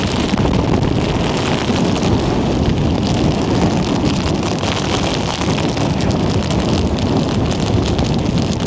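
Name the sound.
strong wind and hail on Old Man of Coniston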